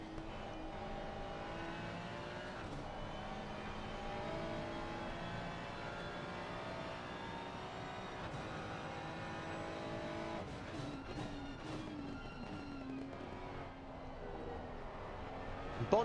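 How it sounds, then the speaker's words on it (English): Onboard engine of a GT3 race car in a PC racing game at Kyalami, a continuous loud harmonic drone that climbs and drops in pitch through gear changes, with no talk over it. "we all love the onboard engine sounds"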